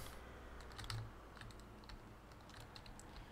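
Keys on a computer keyboard clatter in quick, irregular bursts of close clicks while Farming Simulator is played, with a low hum underneath and no one speaking.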